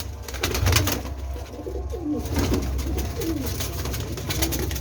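Pigeons of several breeds coo softly in a loft, the low rolling calls repeating and overlapping close by amid a steady background hum.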